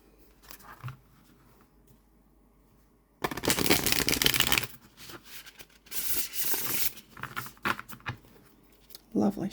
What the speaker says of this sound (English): Look at the shuffle.